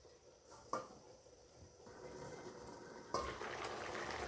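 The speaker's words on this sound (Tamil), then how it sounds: "கொதியில் வந்து கொதிச்சு கறிலாம் நல்லா கொதிக்குது." A pot of radish curry bubbles and sizzles steadily on the stove, with a couple of sharp clinks of a utensil against metal.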